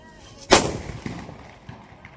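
A single firecracker bursts with a sharp, loud bang during a festive village procession, followed by a quick decaying crackle and a couple of faint pops trailing off.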